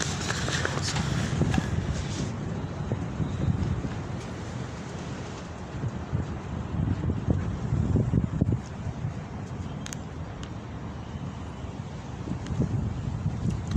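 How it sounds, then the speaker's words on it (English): Wind blowing outdoors: continuous low rumbling buffeting across the microphone, rising and falling in gusts, with a few faint thumps and no clear talking. "There's the wind."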